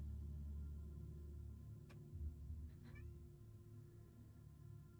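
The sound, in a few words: cat meowing at the door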